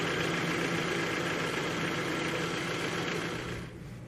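A bus engine runs at a steady idle, a loud continuous rumble that holds evenly and then drops away near the end.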